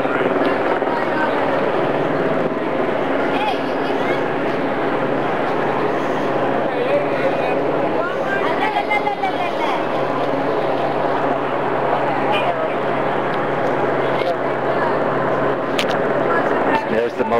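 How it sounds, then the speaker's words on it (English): A steady low drone from two police helicopters hangs overhead throughout, with a crowd of voices talking underneath, during a police raid in Oakland. "2 OPD choppers in the air."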